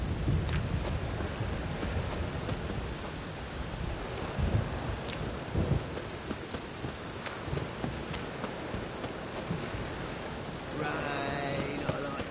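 Steady rain pours down with low rumbles of thunder rolling underneath, and a brief muffled voice near the end, in the video game The Witcher 3: Wild Hunt.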